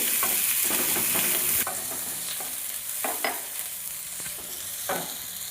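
Chopped onion, green chili and spices frying for vegetable chops make a close, crackling sizzle. It is loudest at first and then eases, punctuated by several sharp spatula scrapes and knocks against the pan, with no voices.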